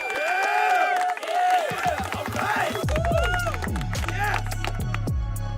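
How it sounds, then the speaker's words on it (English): Clapping and cheering from a small group rise over music and a voice, dense and close, with bright tonal sounds mixed throughout. "What are you clapping for?"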